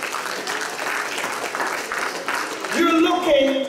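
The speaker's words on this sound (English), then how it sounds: "give him a round of applause" Applause rises from a church congregation during a sermon on the goodness of God, a steady wash of clapping that grows louder near the end while a sustained musical tone enters.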